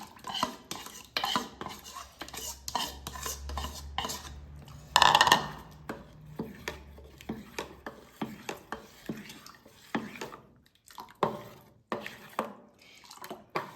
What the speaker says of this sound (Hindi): अब ये जो पिसा हुआ चावल है, अब मैं इसमें मिक्स करूँगी।